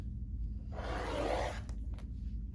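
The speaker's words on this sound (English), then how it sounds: "So I'm just going to cut this corner" Scissors or a rotary cutter slicing through the corner of a layered quilt top, a short scraping cut lasting under a second, close and fairly quiet, followed by a couple of faint handling taps.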